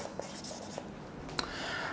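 Chalk or marker writing an equation on a classroom board during a lecture on Chebyshev polynomials, heard as faint scratchy strokes with a few soft taps over a quiet room.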